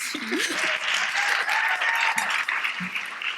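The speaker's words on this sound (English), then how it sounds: "Round of applause for her, please." Audience applause at an immigration symposium, a steady wash of clapping from a crowd sustained for a few seconds with a faint voice underneath.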